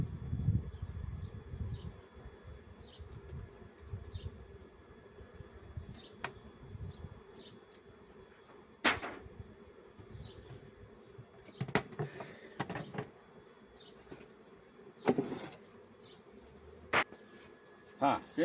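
Honeybees from a small hive with its queen buzz in a low, continuous hum, with occasional brief clicks and knocks nearby.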